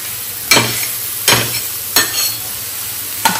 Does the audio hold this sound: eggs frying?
yes